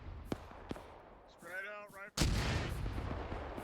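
Artillery fire in a D-Day Juno Beach combat game: two sharp distant booms, then a voice speaks before a heavy close blast with a rumbling tail.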